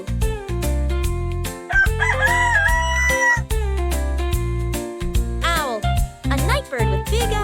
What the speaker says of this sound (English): It says cock-a-doodle-doo.